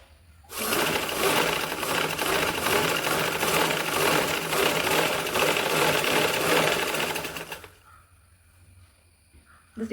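A sewing machine runs steadily for about seven seconds while stitching a fabric mobile pouch, a loud, continuous rapid whir close to the mic, then stops abruptly, leaving near silence.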